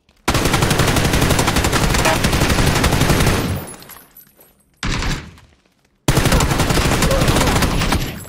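Loud, sustained automatic gunfire in the battle-royale game PUBG, close up, in long dense bursts broken by short pauses and one brief burst between gaps of near silence.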